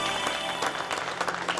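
Audience applause at a stage event where couples are called up and given gift hampers, a short burst of dense, continuous clapping close by, with no talking over it.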